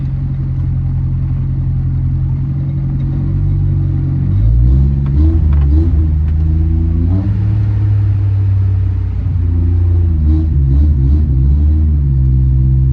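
A Nissan Hardbody truck engine with a swapped carburetor and a sticky throttle that doesn't fully return revs repeatedly, its deep rumble surging and settling in uneven bursts, loud and close with no talk.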